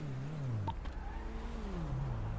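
Car engine in GTA roleplay revving and roaring, a steady low drone that rises and dips in pitch, close and continuous with a brief click partway through and no talk.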